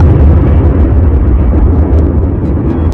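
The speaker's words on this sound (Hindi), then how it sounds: "बीच के इस भयंकर दबाव के कारण एक विशाल विस्फोट हुआ" A huge cosmic explosion at the birth of the sun, heard as a loud, deep, continuous roaring rumble that fills the whole stretch with no pauses.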